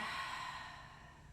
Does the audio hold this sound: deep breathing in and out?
yes